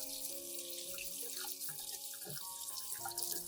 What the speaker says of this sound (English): rinse the plant under clean running water with gentle pressure